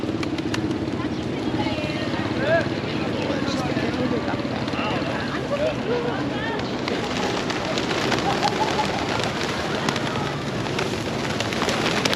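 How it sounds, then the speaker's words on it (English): Pigeons cooing in a large flock around temple steps in Kuala Lumpur, soft repeated coos mixed into a steady outdoor hubbub, with voices in the background throughout. "there are so many pigeons"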